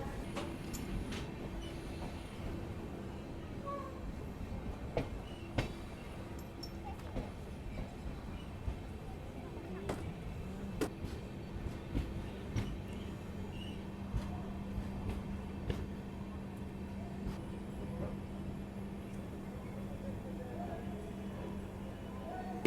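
A train pulls into Jiribam railway station in Manipur at sunset, a low, quiet rumble with scattered wheel clicks and a long faint hum, and talk now and then.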